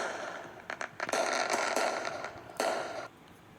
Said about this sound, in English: I love these fireworks.